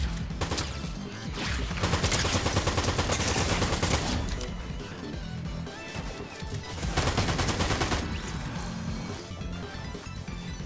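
Gunfire in the video game Fortnite crackles in dense, rapid volleys, close and loud. The shots run almost continuously, with heavier bursts coming and going.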